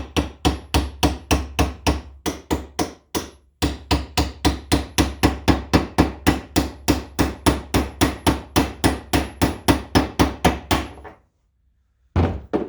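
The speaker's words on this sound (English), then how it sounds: "That dull sound is the sound of the stud bottoming out and hitting the anvil part of the device." Rapid steady hammer blows drive a wheel stud down against the anvil of a stud press tool on a 2005 Honda Odyssey, a long run of close, loud dull thuds with one short pause, then silence and a final blow.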